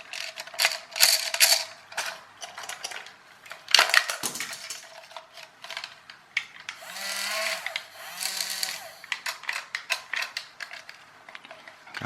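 Small plastic gears in a toy RC jousting knight's gearbox with a missing gear whir and grind in stuttering bursts, with clicking and skipping ratchet-like rattles, close up and fairly quiet, no talking.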